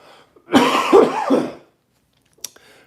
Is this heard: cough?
yes